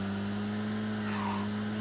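A race car in the Midnight Club 2 video game holds a steady, humming engine drone with a whirring, vacuum-like tone and no other sounds.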